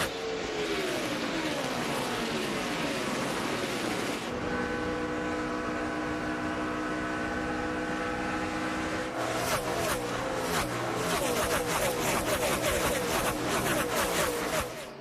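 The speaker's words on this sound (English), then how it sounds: "Yeley, again, hard into the wall, turn 1" A NASCAR Cup Series race car slamming into the wall in turn 1, heard as continuous loud engine roar from passing cars with shifting pitch and a rough, crackling stretch, no voices.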